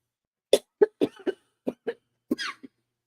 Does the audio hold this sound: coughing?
yes